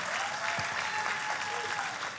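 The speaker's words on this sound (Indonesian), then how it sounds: "tepuk tangannya yang paling meriah buat Tuhan kita" A church congregation applauding together during a service, a dense, steady wash of clapping that fills the space for a couple of seconds with a faint murmur of voices beneath.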